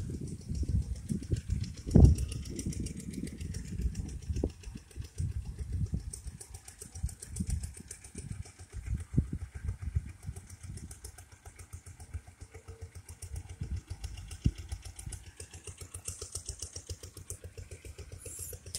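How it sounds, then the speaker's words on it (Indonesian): Diesel engine pump running for field irrigation among shallot and soybean plots, a continuous rough chugging rumble with uneven knocks, heard outdoors at moderate distance amid background noise. "Ini pengairan menggunakan diesel. Nah, kita dengar suaranya."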